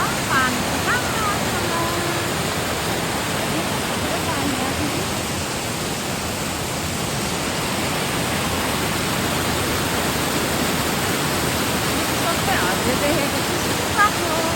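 A hillside stream pours down from a ridge in a constant, dense rush of water that stays loud and steady throughout, masking any other sound.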